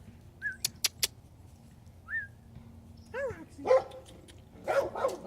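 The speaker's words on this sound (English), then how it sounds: "Hey, there's a dog." A dog barks several times outdoors, some sharp single barks mixed with whines and whimpers, fairly close and clear, with birds and whistling faintly around it and no speech.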